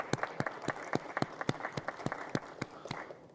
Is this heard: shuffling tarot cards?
no